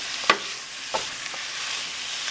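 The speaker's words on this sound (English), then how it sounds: "Just give it a good mix." Spoon stirring garam masala through a coconut milk chicken curry in a pot, a soft continuous sizzle with a sharp knock against the pan and a few lighter scrapes, close and fairly quiet, no voices.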